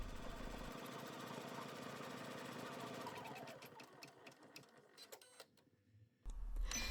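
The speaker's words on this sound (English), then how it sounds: "Now you can put your hoop back on your machine and stitch the next design step." An embroidery machine stitching a design step on an in-the-hoop snap card holder, a close steady mechanical whir of rapid stitching that breaks into irregular clicks and stops before a short burst of machine noise.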